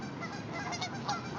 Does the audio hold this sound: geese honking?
yes